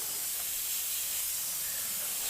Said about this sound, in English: So I gotta know where I'm spraying.